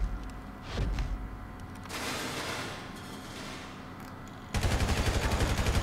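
Carbine rifle fire in GTA V: a few single shots followed by a rapid, loud burst of automatic fire near the end, set against a dull game background.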